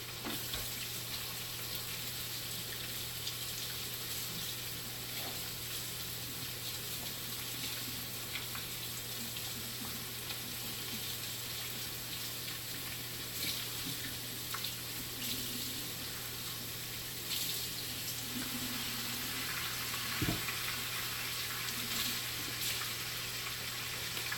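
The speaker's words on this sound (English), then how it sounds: "now let me go wash my hands" Tap running steadily while someone washes their hands at a kitchen sink, a continuous faint hiss of water with small splashes and no talking.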